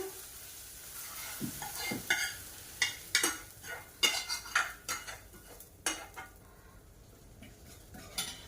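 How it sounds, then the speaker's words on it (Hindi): Hot oil sizzles and crackles as a tempering is poured into cooked lentils (dal), with metal spoon clinks and stirring scrapes, no voices. "तो ये तड़का हो गया है तैयार, अब डाल देती हूँ दाल में।"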